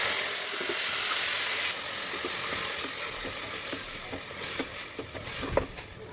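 Curry leaves sizzling in hot oil alongside mustard seeds, fennel and cinnamon, a loud steady hiss that settles slightly after the first burst, with occasional stirring clicks near the end.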